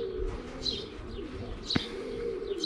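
Young pigeon squabs, the first chicks of the year, give a few soft, high squeaks close by over a low, steady murmur of cooing birds, with one sharp click partway through.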